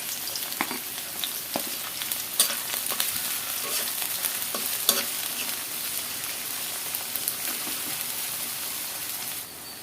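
Onion and garlic fry in a generous amount of oil, a dense continuous sizzle with scattered small pops and crackles, close up and steady, faint voice traces at most.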